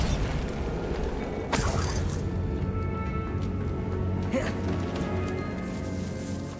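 A Bombarda blasting spell goes off in a decaying catacomb in Hogwarts Legacy, with a sharp burst near the start and a second, fainter blast a few seconds later, both over a steady rumbling ambience.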